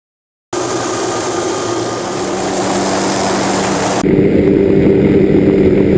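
A helicopter in flight gives a loud, steady rotor and engine roar that starts abruptly, fills the whole clip and shifts to a rougher, harsher tone partway through, with no voices.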